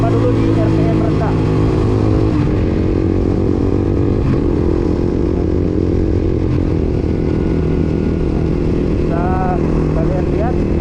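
A budget single-cylinder motorcycle fitted with a universal quickshifter rides at low RPM, its engine thumping steadily and loudly with a constant rumble and some clatter throughout.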